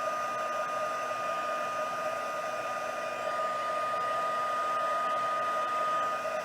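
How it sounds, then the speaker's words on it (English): A heat tool blows steadily with a constant whirring drone as it melts gold embossing powder on a pop-up gate fold poinsettia card, running alone at moderate level without a break. "once your heat tool gets really, really hot, it's really quick"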